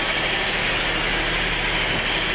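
A 2007 GMC Acadia V6 engine runs on all six cylinders just after a timing chain replacement, a steady, loud broadband idle hum with constant mechanical whir and no pauses.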